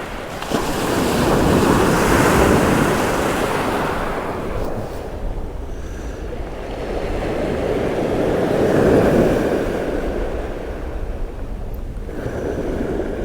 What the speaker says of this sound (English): Not sure that was wind, because the wind has got up to about 5 or 6 knots now.